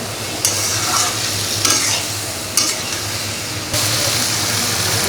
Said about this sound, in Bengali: মাছ তো ভাজা হয়ে গেছে ওগুলো কষিয়ে নিচ্ছি সুন্দর করে নেড়ে চেড়ে কষিয়ে নেওয়া হচ্ছে